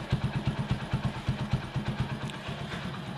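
Hero Passion Pro motorcycle with a worn engine that smokes heavily and burns oil, running close up with a fast, steady, slightly clattery idle beat that fades a little toward the end.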